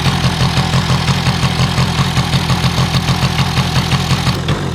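A small engine idles while warming up with the choke on, a loud, close, steady chugging pulse that holds an even rhythm throughout with no voices.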